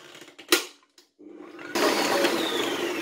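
A kitchen mixer kneading 14-degree butter into a soft paste for almond shortbread dough: a few clicks and a thump, then a low whirring hum that jumps into a loud, steady churning drone.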